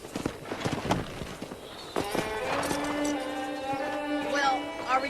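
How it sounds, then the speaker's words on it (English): Horse hooves clip-clop in the Western video game Red Dead Redemption, a short run of uneven hoofbeats followed by game sounds and a sustained musical tone, with a voice speaking briefly. "I'm trying to hitch my horse here."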